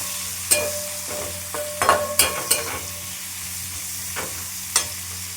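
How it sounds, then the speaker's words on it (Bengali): Onions frying in a pan for red spicy mutton curry, with a steady low sizzle and occasional sharp scrapes and clacks of a spatula stirring. "তো পেঁয়াজগুলো আস্তে আস্তে ভাজা ভাজা হতে থাকে"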